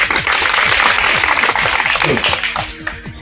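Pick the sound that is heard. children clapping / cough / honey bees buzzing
children clapping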